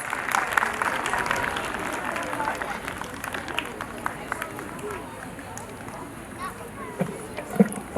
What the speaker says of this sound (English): Can we clap for Mr. Ouko as he comes?